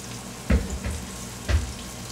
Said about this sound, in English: I'm just going to gently lay the halloumi slices into the hot pan